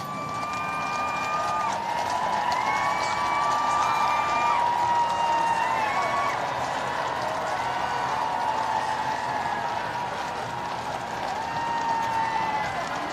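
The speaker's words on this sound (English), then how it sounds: "Loud cheering from the assembled crowds." Sustained crowd noise from the assembled crowds at the coronation of King Charles III, a broad roar of cheering and applause that stays steady for the whole stretch, with faint whistles or horn-like tones drifting over it.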